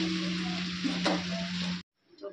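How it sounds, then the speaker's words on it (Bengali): Eggs fry with spices in a pan, giving a loud, close, steady sizzle with a stir or two, which stops abruptly and is followed by faint kitchen sounds. "দেখো এখানে ডিমগুলো আমি ভাজা করতে দিয়েছি।"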